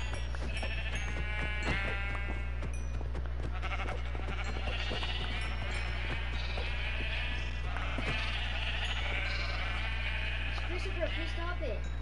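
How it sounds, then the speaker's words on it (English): Sheep bleating in the video game Minecraft (Battle of Craft), repeated bleats over a constant low hum and game noise, with a player talking throughout. "You just killed the sheep that was stuck in the door."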